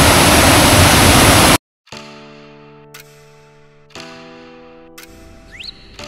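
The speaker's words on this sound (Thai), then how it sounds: "และแล้วก็มาถึงนะครับ น้ำตกลึกลับนะครับ" A waterfall in an ancient forest on the Khao Men trail roars as a loud, dense rushing wash for about a second and a half. It then cuts abruptly to quieter sustained tones.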